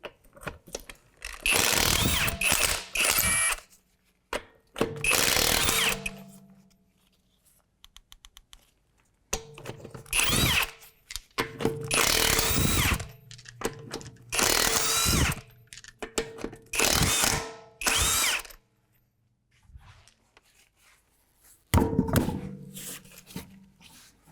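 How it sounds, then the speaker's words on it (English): Power tool with a 22mm socket removing the wheel lug nuts on a 2008 Acura MDX, several loud buzzing bursts of a few seconds each separated by quiet pauses and small metallic clicks, close up with no talk. "We're going to take our wheel off and use a 22mm socket."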